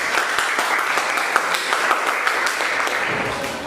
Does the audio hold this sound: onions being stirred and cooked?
no